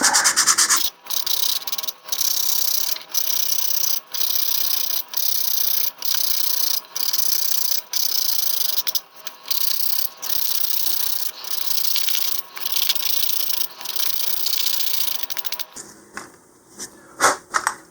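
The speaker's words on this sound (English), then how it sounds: "I'm also going to take a little bit of my sandpaper here. And I'm just going to sand this off a little bit." Sandpaper rubbed by hand on a part of an LOC Precision Graduator model rocket, a loud, close, raspy scraping in steady back-and-forth strokes with brief pauses between them, ending in a few lighter rubs.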